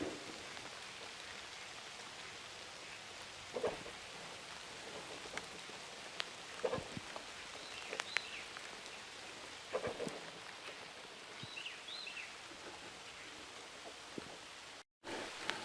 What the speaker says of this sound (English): And excuse the rain.